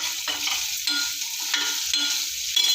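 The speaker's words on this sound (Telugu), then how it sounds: "పచ్చిమిర్చి అయితే ఆయిల్లో బాగా మగ్గినాయి" Green chillies frying in hot oil, a loud, dense crackling sizzle with repeated stirring scrapes, close and with no speech.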